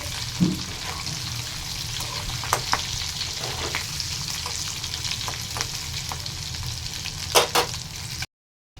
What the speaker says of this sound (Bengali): এই যে তেলে দিয়ে দিয়েছি তেলে এবার একটু একটা লাল লালচে পাড়া ভাব হয়ে যাবে তখন আমি তুলে নেবো একে একে একটু নেড়ে দিচ্ছি